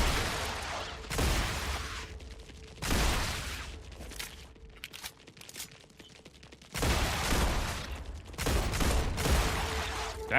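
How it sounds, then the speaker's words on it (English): Enemies in the Star Rupture video game strafe with gunfire, producing repeated loud, crackling volleys that come in waves with brief quieter gaps between bursts. "Oh, they're strafing now as well."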